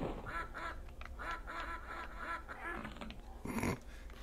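Ducks quacking in the 3DO shooter Killing Time, in an outer garden area: a run of repeated nasal quacks at a steady rhythm over a game soundscape, rising to a louder burst near the end.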